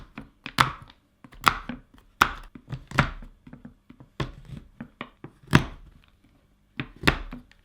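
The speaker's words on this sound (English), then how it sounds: "I've just chopped those into their blocks and then in half, then half again" A knife chopping a bar of chocolate into blocks on a board, a series of sharp, separate thunks in an irregular rhythm with short pauses between the cuts. The sound is close and clear, with no talking.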